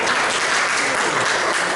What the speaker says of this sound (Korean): 큰 박수 환영 부탁드립니다.